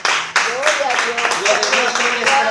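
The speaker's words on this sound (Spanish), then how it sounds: "Denle un aplauso al Señor" A church congregation claps and applauds, a dense burst of hands over a voice that keeps speaking through it.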